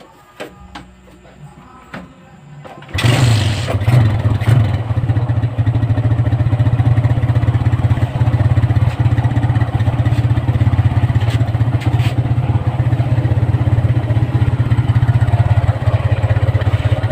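A Suzuki Raider J Pro motorcycle engine, newly running again after a magneto repair, starts abruptly after a few quiet seconds of faint clicks and then runs loud and steady at a close idle with a slight rattling clatter throughout.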